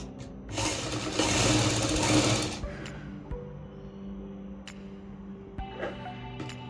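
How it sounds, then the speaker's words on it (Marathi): An electric sewing machine runs a loud, fast whirring stitch along the shoulder seam of a women's slip for about two seconds, then stops, leaving faint clicks and handling of fabric and parts nearby. "बंद करूया, दोन्ही असे जुळून हे शिवून घेऊया।"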